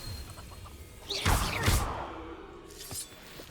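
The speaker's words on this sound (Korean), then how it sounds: "웬 닭이 우네?" A chicken near a cabin in Hogwarts Legacy gives a few clucks within soft game ambience, including a louder squawking burst in the middle, moderately close and with no talk.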